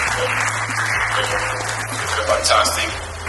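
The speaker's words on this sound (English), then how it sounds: "It's a round of applause for John Temple Labs." An event audience at a tech coding competition finale applauds sponsor John Temple Labs, loud sustained clapping over a low steady hum, with a voice and cheers rising near the end.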